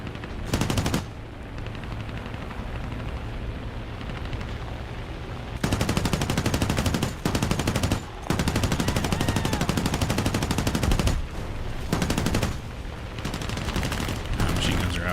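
Machine gun fire in the War Thunder video game: long, loud, continuous bursts of rapid automatic shots, broken by brief pauses and quieter stretches of battle noise.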